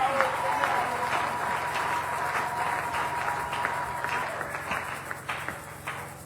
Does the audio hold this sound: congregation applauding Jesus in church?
yes